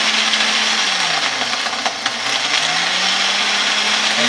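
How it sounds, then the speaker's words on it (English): A small, not full-size blender crushes ice for a margarita at high speed, a loud, steady grinding whir with a motor pitch that sags and rises as the ice breaks up, running alone throughout. "it just says blend at high speed for 5 seconds"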